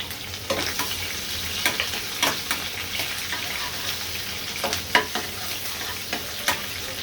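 Chopped garlic and onion frying lightly in a pan after dried chillies, a constant crackling sizzle punctuated by repeated spatula taps and scrapes at an uneven rhythm, close and fairly loud, with no speech.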